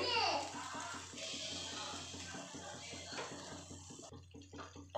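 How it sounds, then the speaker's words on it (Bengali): A little water is poured into a mixer jar holding leftover spice paste for a carrot, capsicum and paneer do pyaza, making a close, splashy trickle with a voice speaking faintly underneath. "আর অল্প জল দিয়ে দেবো এর মধ্যে।"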